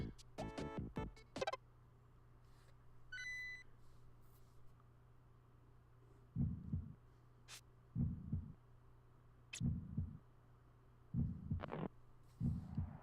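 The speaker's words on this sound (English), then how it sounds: "Also, what's up with this heartbeat?" Video game heartbeat, a faint low double-thump repeating steadily and slowly in a quiet background, with a few scattered clicks and game tones early on.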